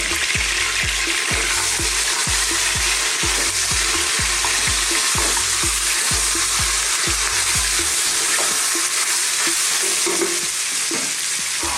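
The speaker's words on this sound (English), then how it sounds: "We're going to put in some bay leaf, cinnamon stick, some green cardamom, some whole black peppercorns, and some few cumin seeds" Whole bay leaf, cinnamon stick, green cardamom, black peppercorns and cumin seeds frying in hot oil, a steady loud sizzle with rhythmic scraping stirs that stop near the end.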